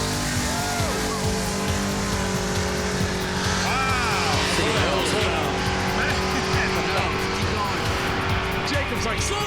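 A drag racing car engine runs loud and steady beside a game-show drag strip, its rough idle and revving continuous throughout while people talk over it.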